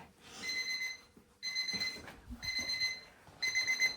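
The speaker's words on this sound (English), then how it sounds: "I hope the timer doesn't wake them up." A kitchen timer alarm goes off in a home kitchen, repeating bursts of shrill electronic beeping in a steady on-off rhythm, fairly close and loud, with faint rustling between the bursts.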